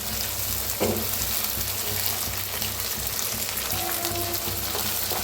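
Ambadi greens roasting in a pan hiss with a loud, constant sizzle, and an occasional utensil stir or scrape cuts through close by, with no talking.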